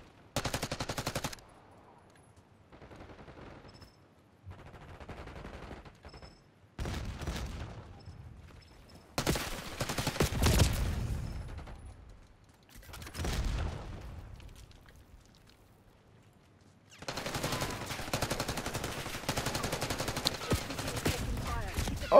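Video game gunfire arrives in several separate bursts of rapid automatic fire and single shots, some loud and close, some fainter, with quiet gaps between them.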